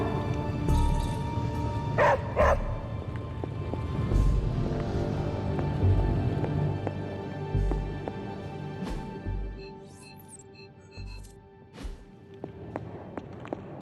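A dog in the Marvel's Midnight Suns video game gives a few short barks and yips, with soft whimpers and quiet game ambience in between, fairly close and spread over several seconds.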